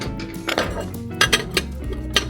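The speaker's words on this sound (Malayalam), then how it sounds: "എല്ലാം പൊട്ടുന്ന പാത്രം, സെറാമിക്കാണ് ഇതൊക്കെ." Ceramic dishes and bowls clink against each other in a shop, several sharp ringing knocks at irregular intervals over a steady background murmur, fairly close.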